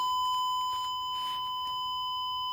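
A TOA ZM-104A impedance meter's test tone beeps continuously at a constant pitch, clear and close, with faint rustling underneath.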